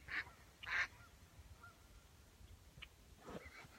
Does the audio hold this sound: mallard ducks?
yes